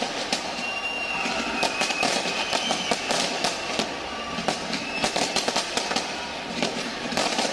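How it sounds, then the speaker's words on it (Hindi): Rapid bursts of New Year fireworks crackle and pop repeatedly in the distance over Auckland, New Zealand, a dense irregular barrage over a steady background hum. "और काफी देर से ये आतिशबाजी हो रही है।"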